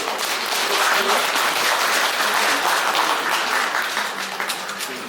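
Members of a housing association general meeting applaud together to pass an agenda item, a dense, even burst of clapping from a large hall crowd lasting several seconds.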